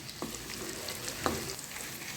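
Mustard seeds and dried red chillies frying in oil for a tempering, with asafoetida and crushed shallots in the pan: a low steady sizzle, faint and close, with two sharp stirring taps, no speech.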